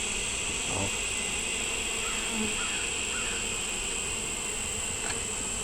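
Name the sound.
bees buzzing in a hive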